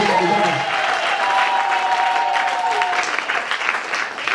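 A church congregation breaks into loud, sustained applause that fills the space, steady clapping from many hands continuing throughout with a slight swell and taper near the end.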